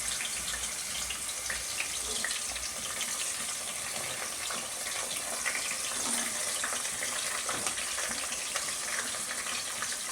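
Chopped vegetables for pav bhaji frying in a pan, giving a steady dense sizzle that runs unbroken and fairly loud throughout, with no talk.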